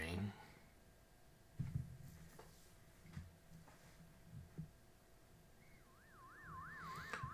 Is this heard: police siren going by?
yes